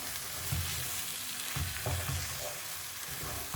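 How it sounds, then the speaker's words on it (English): Cream is stirred into a sizzling handi kebab gravy in a pot. Steady, close frying sizzle runs throughout, with the soft, rhythmic swish of a spoon mixing. "Add half cup of cream. Mix it in."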